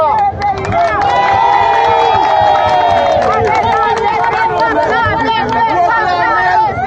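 A large crowd at the national palace in Haiti cheers and shouts together for Guy Philippe, a dense continuous roar of many voices with scattered whistles and calls.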